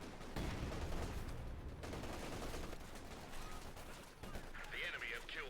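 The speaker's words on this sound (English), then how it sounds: "we shall lead one of the British artillery's greatest barrages in all history to destroy a small flak emplacement" A British artillery barrage in the World War II strategy game Company of Heroes 2 sounds as a dense run of booming blasts and rattling gunfire, moderately loud, with a voice speaking briefly.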